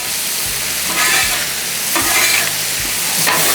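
Potatoes stirred into a sizzling cowboy stir fry with corn, a steady loud fry hiss with repeated scraping stirs of a spatula through the pan, no talking.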